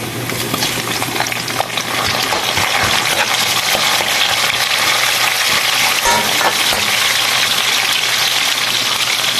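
Tomatoes hitting hot oil in a frying pan set off a loud, steady sizzle with stirring scrapes throughout, and no talking over it.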